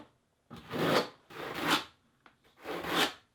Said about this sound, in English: And then you can comb in additional thin set with the grooved side